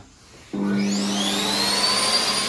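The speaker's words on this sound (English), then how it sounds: "Let's use the Airforce hand dryer." An Airforce hand dryer in a Sainsbury's supermarket restroom starts up abruptly after a moment of quiet, then blows with a loud, steady whooshing roar and a rising whine that continues to the end.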